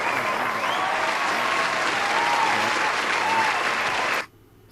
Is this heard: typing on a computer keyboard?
no